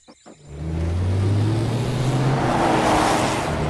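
An overheated, failing Jeep engine gives a loud, steady motor drone and whir that sets in after a few brief clicks and holds without a break. No voices are heard over it.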